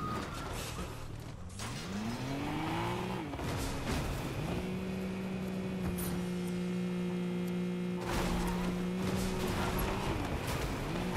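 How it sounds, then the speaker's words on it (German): Car in the video game Fortnite, an engine drone that rises in pitch as it accelerates and then holds a steady tone, with light mechanical rattles beneath it. "Wir sind schneller mit meinem Wagen."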